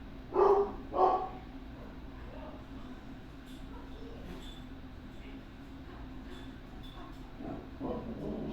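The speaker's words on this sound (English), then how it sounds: "My dog's going crazy out there." A dog barks excitedly outdoors, two loud close barks at the start, then quieter scattered yips and distant noises; faint voices mingle in the background.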